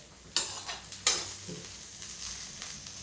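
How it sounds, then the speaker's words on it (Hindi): Onions frying in a pan for a besan pakoda kadhi, with a few loud stirring scrapes over a steady soft sizzle and no talking. "ये देखिए प्याज भी भून गया है। प्याज भून गया।"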